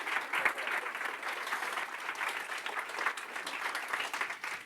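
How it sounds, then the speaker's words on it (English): Audience at a panel event applauding steadily, dense sustained clapping throughout with no break. "Round of applause for our panel, please."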